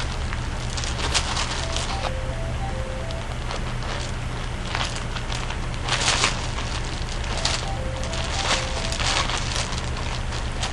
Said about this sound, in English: Right now I'm just digging through this bag.